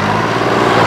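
A tractor pulling an 8-foot rotavator through a field in low gear grinds out a loud, steady engine drone at close range with no break.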